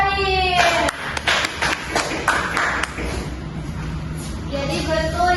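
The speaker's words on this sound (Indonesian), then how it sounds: "Tepuk tangan buat Salim." Schoolchildren in a classroom clap for a classmate, a short burst of scattered, sharp hand claps lasting a couple of seconds amid room noise and some background voices.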